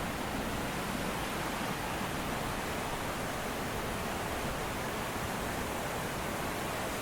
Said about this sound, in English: listen to this rushing water